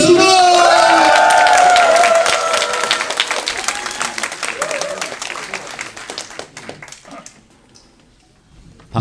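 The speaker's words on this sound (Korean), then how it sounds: "정말 큰 박수와 환호성 부탁드리겠습니다" A large lecture audience greets the Korean prime minister with loud clapping and cheering, whistles over a dense burst of applause that thins and fades away after a few seconds.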